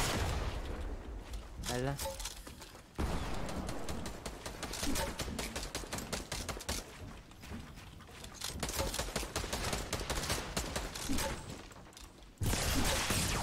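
Rapid bursts of video game gunfire crackle throughout, sharp repeated shots under excited voices talking over one another.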